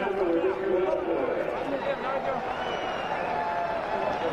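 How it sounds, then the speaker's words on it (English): A large crowd chatters and cheers on the grid ahead of Nigel Mansell's 1993 Indy race, a dense, steady roar of voices with some clapping mixed in at an even level. "The big crowd rooting for the rookie."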